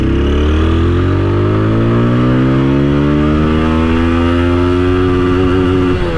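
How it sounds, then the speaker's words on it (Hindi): A 2024 TVS Apache RTR 160 4V motorcycle in sport mode revs hard in second gear toward its roughly 11,000 RPM redline, the engine note climbing steadily and loudly from close by for about six seconds. "अभी मैं आपको स्पोर्ट मोड में सेकंड गियर में इसका फुल RPM मार के दिखाता हूँ"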